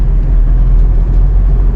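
A car drives along a road and overtakes another vehicle, a steady loud low rumble of engine and road noise running continuously from the cabin with no speech.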